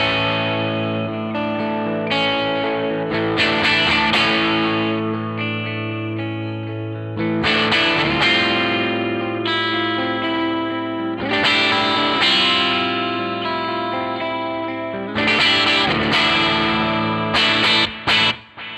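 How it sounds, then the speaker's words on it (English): A Les Paul electric guitar played with both pickups on, heavily effected with distortion and chorus, rings out in loud sustained chords and phrases that swell and restart across the passage. "these two pick up together sounds like a single coil"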